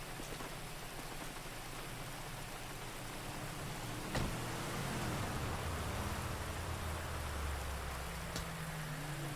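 Rain falls steadily in the GTA 5 video game, a constant hiss throughout with a brief engine hum and a couple of sharp ticks.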